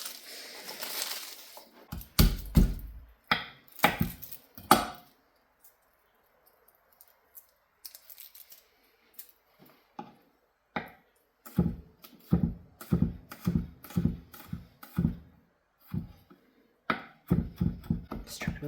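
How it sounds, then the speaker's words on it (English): Knife mincing garlic on a cutting board, quick bursts of sharp close chops in rhythmic runs separated by short pauses, with one longer quiet gap midway. "Just trying to mince up nice and fine"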